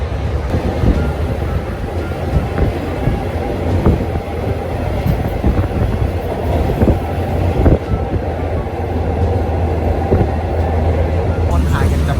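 A Thai passenger train rolls steadily along its rails, a continuous dense rumble with faint rhythmic clatter from the wheels, heard from inside a carriage for the whole stretch.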